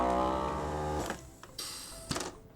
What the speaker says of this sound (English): And then we're gonna click the marinate button.